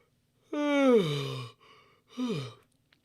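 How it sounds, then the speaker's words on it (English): A person lets out one long voiced yawn that slides downward in pitch, then a short breathy exhale and a second, shorter falling yawn, close and alone. "I just randomly decided that I needed to yawn, apparently."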